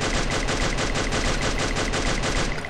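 Automatic gunfire from the mobile shooter game Free Fire rattles in one loud, continuous, rapid burst with no pauses, close and dense, and no voices.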